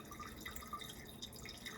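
Water streams from a pour-over kettle in a gentle shower onto coffee grounds, heard as a soft, steady trickle with faint dripping, quiet and close, with no talking.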